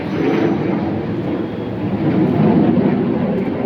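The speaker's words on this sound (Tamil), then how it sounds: "மேலே மேலே சவுண்டு ஏரோப்ளேன் போகிறான்" An airplane passes overhead with a loud, steady broadband roar that swells slightly and never fades, with no voices over it.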